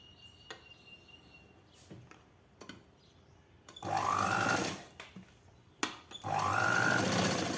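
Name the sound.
sewing machine stitching a blouse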